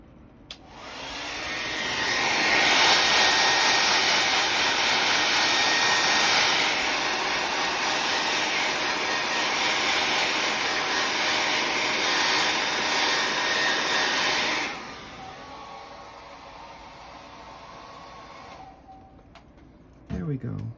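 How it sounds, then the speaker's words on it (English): A hair dryer blows a loud, steady whoosh for about twelve seconds in a garden craft setting, then cuts out. Quieter background remains afterward and a short noise comes at the end. "And let me get my hair dryer out."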